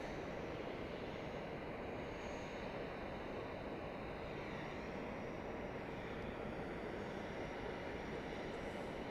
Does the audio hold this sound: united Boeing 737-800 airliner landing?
yes